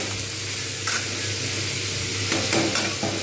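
Pumpkin being stirred in hot oil with five-spice seeds and chili for a Bengali pumpkin chhechki, giving a steady close sizzle and fry broken by a few scraping stirs of the spoon against the pan.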